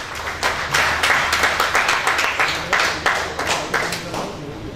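An audience at an Urdu mushaira in 2024 claps steadily to welcome the poet Shahid Zaki, dense sustained applause with rhythmic swells lasting the whole stretch.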